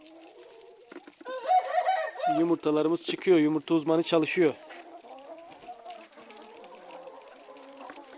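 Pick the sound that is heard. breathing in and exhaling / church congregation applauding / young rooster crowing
young rooster crowing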